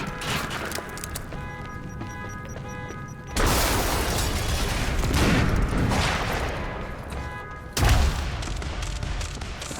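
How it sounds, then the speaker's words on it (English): Gunfire erupts in the video game Quantum Break as loud, dense bursts of shots and impacts break out after a quieter stretch, with another sharp burst near the end. "Keep firing!"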